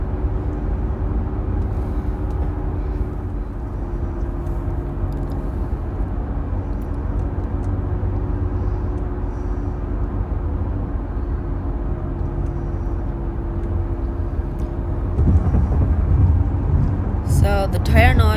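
Inside a 2012 Acura MDX on the highway, a low, steady hum of tire and road noise runs beneath the cabin and stays subdued, rising slightly near the end.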